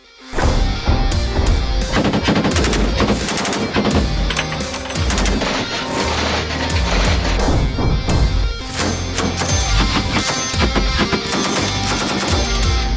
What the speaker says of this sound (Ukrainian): Відстрілявся сьогодні по морській цілі.